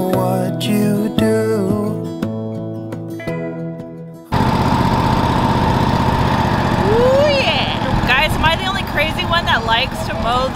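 Lawn mower engine running on a homestead, a loud steady drone that begins abruptly after a stretch of music and continues throughout, with a voice talking over it.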